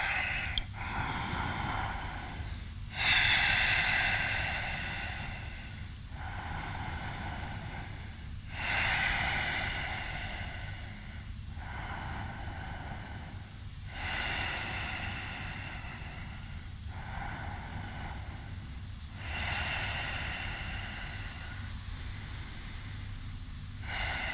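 Slow, deep breaths during a yoga stretch, with long audible inhales and exhales repeating at a steady pace several seconds apart, heard close and alone.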